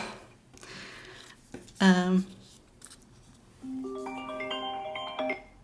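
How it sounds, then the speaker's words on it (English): A phone alarm sounds as a short run of bright, repeating electronic tones, moderately loud and close, following some rustling and a brief voiced sound. "Sorry about my alarm."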